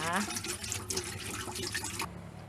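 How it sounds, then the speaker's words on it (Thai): Water pours steadily into a pot of minced pork for a couple of seconds, a continuous splashing flow under a voice. "เทน้ำใส่นะคะ"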